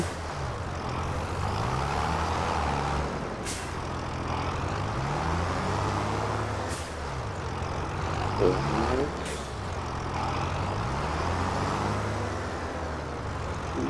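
A tractor in Farming Simulator 25 drives out to the field, its engine a steady, loud rumble with shifting pitch as it accelerates, plus occasional sharp hisses and clanks.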